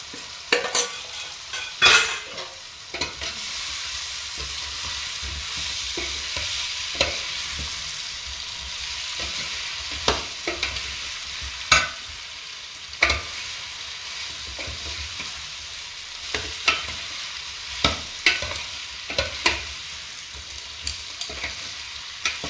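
Chicken Manchurian with capsicum stirred and fried in a pan, a steady sizzle running throughout with repeated scraping stirs and occasional utensil knocks against the pan.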